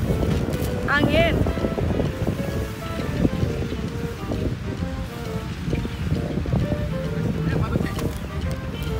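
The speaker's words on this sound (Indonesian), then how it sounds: "Angin." Wind blows outdoors during a kite-flying session, making a steady rumbling gust noise against the microphone throughout. Voices and other faint sounds can be heard underneath.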